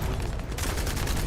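Rapid weapon fire in The First Descendant as balls are shot, dense overlapping blasts and booms filling the short burst at steady loudness with no pause.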